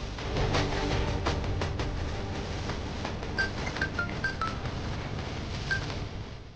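A phone rings with a short series of electronic beeping tones, sounding in a quick run of blips over a dense, steady background in a tense TV drama scene about a car's brake failure.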